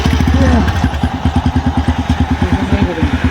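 A motorcycle engine runs close by with a loud, fast, even chugging pulse that holds steady throughout, a short voice briefly heard over it near the start.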